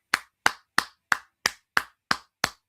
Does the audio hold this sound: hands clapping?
yes